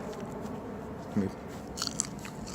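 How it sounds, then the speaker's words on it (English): A ripe red Brazilian Starfish hot pepper bitten into, a single sharp close crunch followed by faint chewing crackles over quiet outdoor background. "I'm gonna eat it right now as I show you this."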